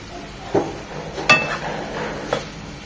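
Tomatoes frying with spice paste for a boal fish curry, with a soft background sizzle and three sharp knocks of a spoon against the pan.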